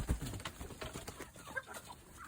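Chickens and ducks feeding on scattered grain, with faint clucks and scattered soft pecking and rustling nearby in a quiet yard.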